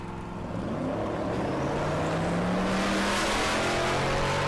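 Drag racing cars, a Camaro and a Nova, roar at a Great Bend, Kansas dragstrip, engines rising steadily in pitch as they accelerate, loud and continuous without speech.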